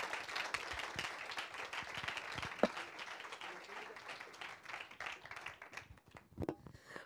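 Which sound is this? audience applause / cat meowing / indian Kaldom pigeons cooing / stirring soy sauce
audience applause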